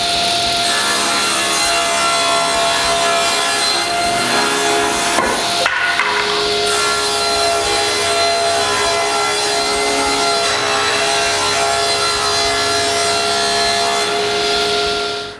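Plywood panels are sawn to size in a workshop, a loud continuous rasping cut running almost the whole time with a brief break midway, no talking.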